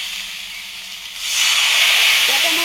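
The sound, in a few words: ginger, garlic, coriander, onion frying with salt and turmeric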